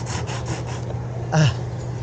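Rhythmic rasping strokes of sandpaper rubbing a surface, several quick passes followed by one louder scrape.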